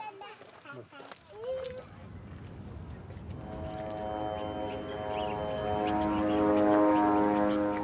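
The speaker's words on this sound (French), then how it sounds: "Il ne reste que le bruit obsédant des drones." Drones buzz overhead in Gaza as a steady, droning hum that builds and then holds. Brief voices and scattered sounds come first.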